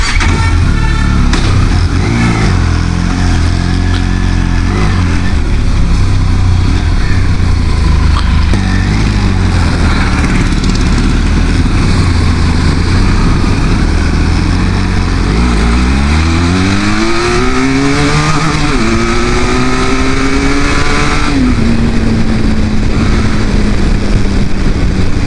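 A motorcycle rides on the road with a loud, steady engine drone and wind rush, rising and falling in pitch as it accelerates through the gears, close and continuous throughout.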